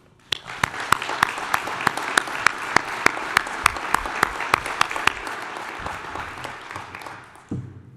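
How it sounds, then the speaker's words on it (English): An audience at the CSCE 2012 opening ceremony applauds its sponsors, a crisp run of sharp claps starting abruptly and fading into a softer patter, ending with a brief low thump. "So I would like to begin by giving a quick round of applause"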